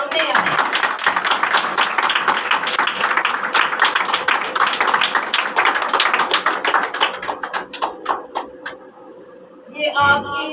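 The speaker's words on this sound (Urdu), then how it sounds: "آپ کی تالیوں کی گونج بہت ہونی چاہیے" Church congregation clapping in a sustained burst of applause, dense overlapping claps filling the room and then tapering off, with a brief voice at the end.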